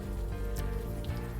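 Rain falling in the video game Unavowed, a soft, even patter and hiss that holds steady throughout, with a faint tonal background underneath and no voices.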